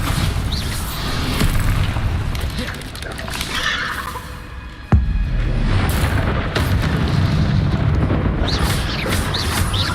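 Bombarda explosion spell in the video game Hogwarts Legacy: a sudden blast midway that gives way to a sustained roaring crumble, over busy game noise.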